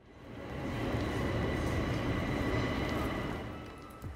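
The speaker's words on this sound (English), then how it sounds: "This is the train station at Bracknell." A train rolls through the railway station at Bracknell, a steady broadband rumble that swells in, holds for several seconds and eases off with no voices.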